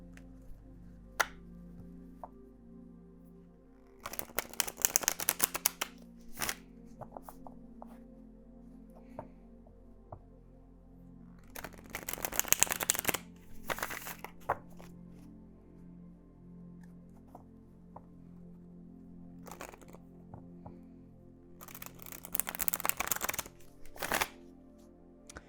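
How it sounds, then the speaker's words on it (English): A deck of tarot cards being shuffled in three separate bursts of rapid riffling, close and crisp, with quiet pauses and small taps between them in a still room. "Okay, that one really didn't want to shuffle."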